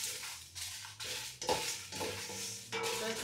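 Whole biryani spices are dry roasted and stirred in a pan, giving close, repeated scraping and rustling strokes with a light sizzle, steady and fairly quiet with no talking.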